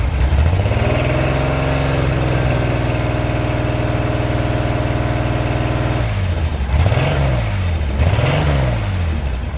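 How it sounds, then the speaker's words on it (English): A car engine idles with a misfire after whistles are fitted to the exhaust, a loud steady hum with a whistling drone on top, then two blips of the throttle that rise and fall. "Well, it has got a misfire."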